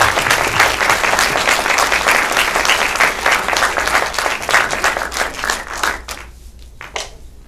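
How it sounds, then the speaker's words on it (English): A seated audience at a film-centre talk event breaks into steady, dense applause that rolls on for several seconds before thinning into a few scattered claps at the end. "can you stand up and we give him a big applause?"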